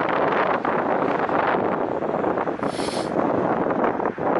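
Wind blows outdoors across an open setting where a small wind generator is turning, a broad continuous rush with gusty swells that buffets the microphone throughout, with no voices.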